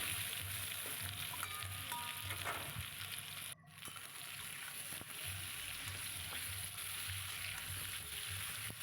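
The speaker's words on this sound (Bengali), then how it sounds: "বেশ একটু ভাজা ভাজা হবে, লালচে লালচে হবে" Taro corms fry in a pan with salt and turmeric, giving a continuous, even sizzle with occasional stirring scrapes. The sound is fairly quiet and steady throughout, with no talking.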